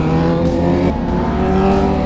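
A Kawasaki Ninja 1000SX superbike with a quick shifter, revving hard close by on a road, its engine note rising and falling through quick gear changes.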